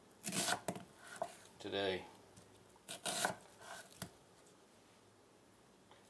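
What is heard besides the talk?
knife chopping onion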